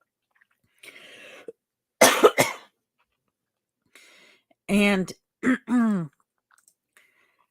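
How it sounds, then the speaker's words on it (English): A throat clearing, then a burst of harsh coughs, followed by a few strained, voiced hacking coughs, close to the microphone, with a brief spoken word. "I'm having a coughing fit again."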